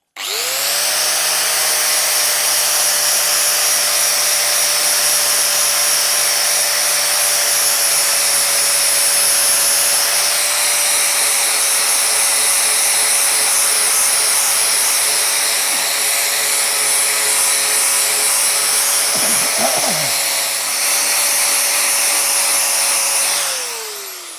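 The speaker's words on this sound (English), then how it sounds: "I'm going to grab my flap disc and just ease the top out of that and see what it is." An angle grinder fitted with a flap disc grinds steadily on a Velocette motorcycle part, a loud continuous high whine for over twenty seconds, close up, with a brief scraping flutter near the end before it winds down.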